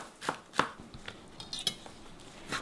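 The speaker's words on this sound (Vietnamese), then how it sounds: "Mình cắt hành, mình cắt chừng 1 nhánh hành thôi" A knife chops a single stalk of green onion on a cutting board in a home kitchen, producing a few sharp, spaced taps close up with no talking.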